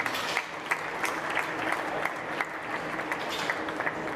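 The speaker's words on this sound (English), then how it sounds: "Give Colton a round of applause." An audience at a livestock showmanship event gives a round of applause, a steady patter of many hands clapping with a few louder individual claps standing out, moderately close and sustained without speech.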